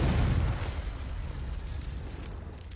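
Confringo fire-blast spell cast in Hogwarts Legacy, bursting as a deep, loud boom that rumbles up front and then fades into a long, tapering roar.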